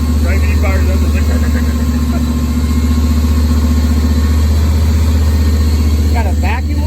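An old first car's engine idling after sitting unused, a steady loud near rumble with a faint tick, while people talk over it.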